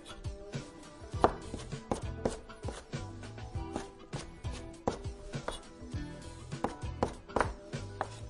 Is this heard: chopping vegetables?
yes